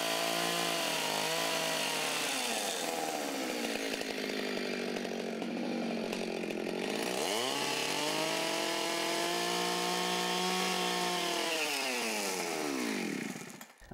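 A chainsaw cuts a notch into a log ceiling beam, its engine snarling loud and close for the full stretch, pitch sagging under load and rising again as the cut progresses before cutting off at the end.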